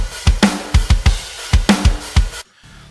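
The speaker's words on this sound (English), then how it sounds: "With the addition of one-shots, for example, the kick and snare, they already sound a little more alive." Heavy rock drum groove from the Ultimate Heavy Drums library, its kick and snare layered with added one-shots, hits firmly and up front with a bright cymbal wash, then cuts off abruptly.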